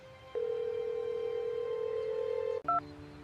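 A telephone call placed to a lost puppy's owner, heard as a long steady tone lasting about two seconds, then a brief change to a higher two-note signal, with no voices.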